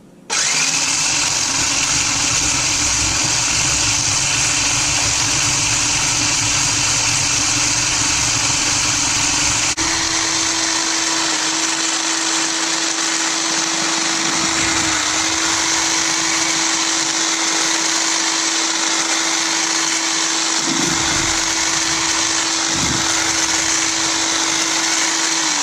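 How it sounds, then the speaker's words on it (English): An electric hand whisk beats egg whites for a key lime pie, a steady loud whirring motor that runs continuously throughout, with a few brief dips in pitch midway and near the end, and no talk over it. "we just want to whisk up these egg whites a bit"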